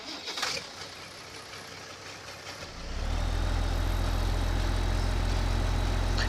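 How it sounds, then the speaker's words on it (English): Small tractor in Farming Simulator 15 starts up about halfway through, after which its engine settles into a loud, steady low rumble. "Kind of a small tractor here."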